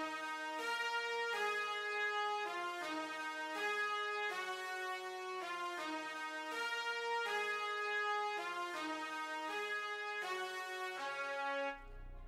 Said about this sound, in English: I grabbed this producer brass preset, and I just added this simple brass line